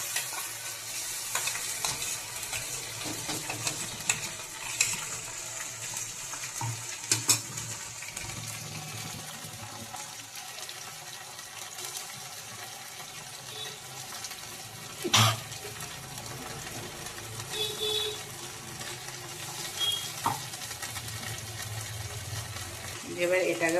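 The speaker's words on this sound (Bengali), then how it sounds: "এবার এটাকে ভালো করে নাড়াচাড়া করে নিতে হবে।" Ginger, garlic and green chili paste frying in a pan for egg pulao, with a steady broadband sizzle and scraping stirs that rise in a few brief louder bursts, plus occasional faint water-like sounds in the background.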